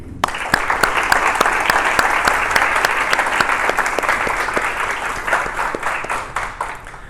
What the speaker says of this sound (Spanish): me gustaría que le dedicáramos un fuerte aplauso